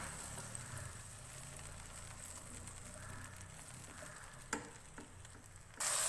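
Green peas fry in about three tablespoons of oil in a pan, a faint, even sizzle with a couple of light taps of a spoon against the pan.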